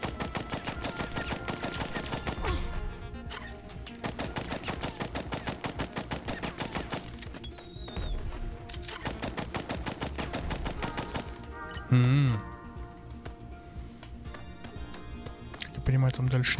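Double-shot weapon gunfire in the video game Blast Brigade, rapid repeated bursts of shots in long rattling runs with brief pauses, loud, over game music and effects.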